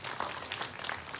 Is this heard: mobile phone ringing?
no